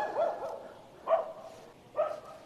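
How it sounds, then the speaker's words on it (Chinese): A lone dog barks three times at a large, deserted temple compound in Gansu, each bark clear and fairly close, with short quiet gaps between them. "只有一条狗在叫。"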